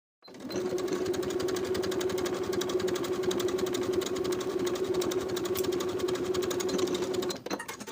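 A sewing machine runs steadily, backstitching and then stitching a 5/8 inch seam down a jumpsuit bodice, a continuous close mechanical whir lasting about seven seconds before stopping abruptly.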